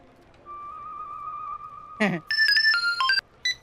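An incoming-call phone ringtone plays as a bright melodic electronic tone, starting with a long steady note and breaking into quick repeated chiming phrases, clear and close with a brief voice or noise burst in the middle.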